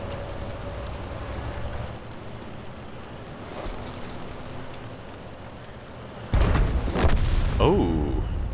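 An M12 artillery shot in World of Tanks fires as one loud, sudden boom and is followed by a rumbling tail, after several seconds of quiet battlefield ambience.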